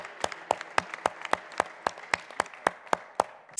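A church congregation applauds in sparse, rhythmic claps that land about every quarter second, fairly close and steady, with no talk over them.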